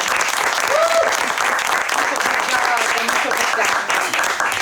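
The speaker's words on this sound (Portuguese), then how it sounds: "uma salva de palmas" A live audience claps throughout a podcast event in Portuguese, sustained dense applause heard steadily from start to finish, with a brief whistle-like cheer early on.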